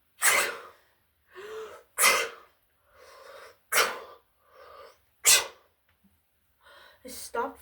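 Close, loud sneezes repeat roughly every second or two after a sneezing potion was swallowed, each burst followed by quieter breathy sounds, ending in a quick double sneeze.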